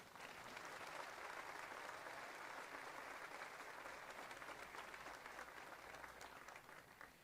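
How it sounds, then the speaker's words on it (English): A crowd at the Crown Point High School Class of 2020 commencement applauds district leaders and school board members, with a continuous, even wash of many hands clapping that sounds somewhat distant and soft. "Please give our district leaders and members of the school board a round of applause."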